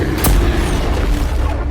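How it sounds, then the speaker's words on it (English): A bomb explosion sound effect: one sudden heavy boom, then a low rumbling roar that lingers and slowly fades. "And there is just an explosion."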